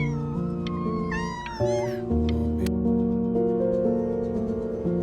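A cat meows repeatedly in the game Before Your Eyes, rising and falling cries laid over a steady, sustained musical backdrop, loud and close.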